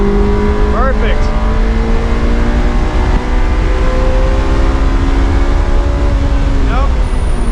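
A 2001 Honda S2000 lapping a race track, its engine droning loud and steady from inside the cabin, with rising and falling pitch through gear changes.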